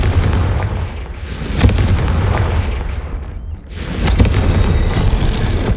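A Confringo blasting spell exploding in the video game Hogwarts Legacy, loud booming blasts with sharp cracks, one strong hit early and another later, over a continuous rumbling bed of combat noise.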